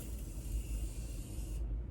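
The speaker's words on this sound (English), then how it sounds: "I'm just gonna spray a little bit of this Morphe" A steady hiss of Morphe setting spray from a spray bottle lasting over a second and a half, then stopping abruptly, over a low background rumble.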